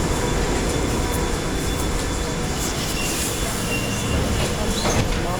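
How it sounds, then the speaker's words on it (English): A London Underground Piccadilly line train runs with a steady loud rumble and roar of wheels on track, with faint squeals and rattles throughout, heard from inside the carriage. "We're on the Piccadilly line."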